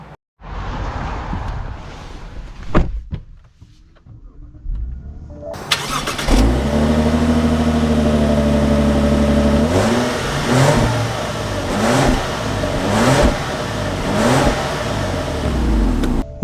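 2024 Lexus LS 500 F Sport, a full-size luxury sedan, starts up after some quieter cabin noises, then its engine revs and pulls away with rising and falling acceleration, steady and close.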